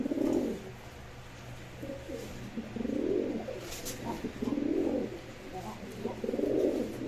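Racing pigeons coo in repeated low, rolling phrases, about four bouts spaced a second or two apart, close by over a steady low hum.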